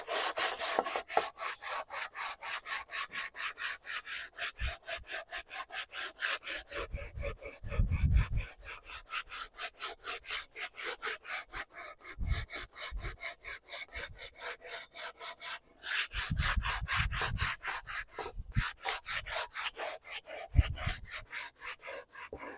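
Close, steady sanding strokes rasp across a juniper wood bow finished with polyurethane, coming in a fast even rhythm over long stretches with a few brief pauses and some duller, heavier strokes.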